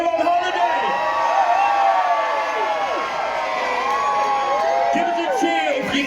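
A holiday crowd at a Butlins show cheers and whoops loudly, many voices rising and overlapping in bursts that fill the room.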